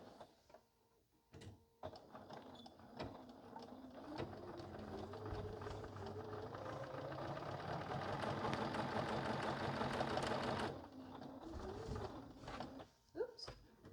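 A sewing machine stitching binding onto a quilt runs steadily for several seconds at a quiet, even pace, with brief starts and stops of the needle mechanism at either end.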